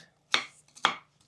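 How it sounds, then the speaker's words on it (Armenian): A knife chops walnuts finely on a board for homemade ice cream, two sharp, close chops about half a second apart in an otherwise quiet kitchen. "Այդ ընթացքում մանր կկտրատենք ընկույզը"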